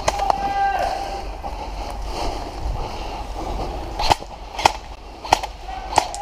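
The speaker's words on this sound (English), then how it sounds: "Who's firing at me?" Video game gunfire during a manor assault, a few sharp isolated shots cracking out in the second half over a low ambient rumble, with scattered game effects earlier.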